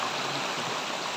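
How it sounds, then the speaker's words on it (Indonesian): Water rushes steadily in a continuous hiss from a small waterfall stream flowing nearby. "Kita boleh lihat anak air terjun di sana."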